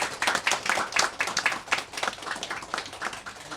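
A small group of guests at a wedding clapping for the couple, close irregular handclaps in quick bursts for a few seconds.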